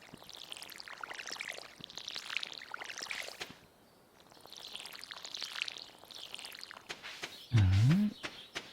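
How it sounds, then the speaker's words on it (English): A watering can pours water over crops in the Stardew Valley video game, two soft splashing bursts separated by a brief pause, followed by a short game tone. "And I need to water these things."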